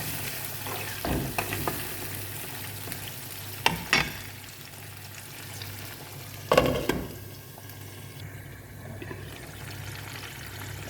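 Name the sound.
frying garlic cloves and green chillies in oil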